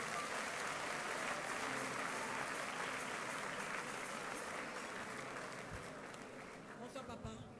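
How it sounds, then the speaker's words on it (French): A large audience applauds steadily for Jesus at a Christian gathering in Côte d'Ivoire, dense continuous clapping with a few cheers that tapers slightly toward the end, no talking over it. "On acclame Jésus pour la Côte d'Ivoire"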